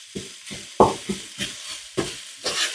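Beef mince sizzles in a hot frying pan while a utensil stirs and scrapes it in repeated strokes, close up with a continuous frying hiss.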